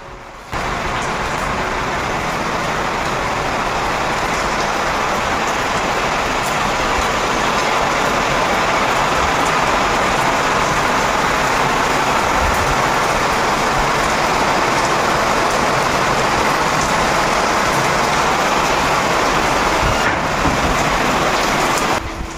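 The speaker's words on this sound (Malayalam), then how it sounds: "മഴ പെയ്തുകൊണ്ടേയിരിക്കുക പുറത്ത്" Steady rain pours down outside a home, a dense, unbroken hiss and patter that holds at a loud, even level for the whole stretch, with no voices over it.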